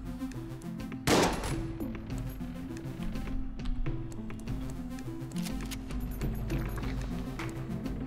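Gunfire in the Enter the Gungeon video game, shooting up the shop: a loud burst of rapid shots followed by lighter scattered firing over steady background game music.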